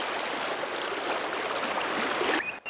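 A river stream flows steadily beside an angler in a gloomy outdoor setting, a close, even rush of water that cuts out near the end.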